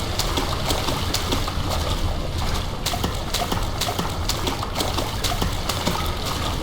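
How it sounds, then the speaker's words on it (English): A character sloshing and wading through water in the horror game Amnesia: The Dark Descent, a steady churning splash with regular rhythmic strokes, loud and continuous throughout, no voices over it. "we're already slopping around pretty loudly in the water here"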